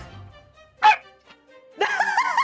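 Dogs barking in the video game The Great Ace Attorney, a sharp single bark followed after a pause by a longer burst of yipping and whimpering barks, close and clear with no talking over them.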